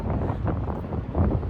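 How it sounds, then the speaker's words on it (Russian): Gusty wind buffets the microphone outdoors in Irkutsk, a brief low roaring rush that swells and dips without any speech. "Ветер."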